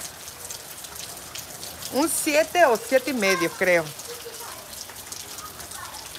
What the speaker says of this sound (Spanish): Aquí está lloviendo bien padre.